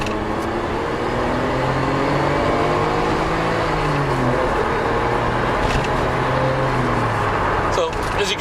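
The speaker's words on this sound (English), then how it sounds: "I'll just bring it up to the RPM here." A Nissan Skyline GTR R33 V-Spec engine is revved up through its range, its pitch rising and falling in smooth sweeps over a steady, loud idle rumble, with a brief clatter near the end.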